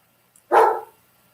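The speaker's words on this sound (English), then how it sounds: "apologize about the doofus dog barking in the background" A single sharp dog bark rings out after a faint lead-in sound, fairly loud and slightly distant in an indoor background, with no talk over it.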